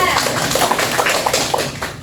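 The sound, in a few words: classroom applause for a group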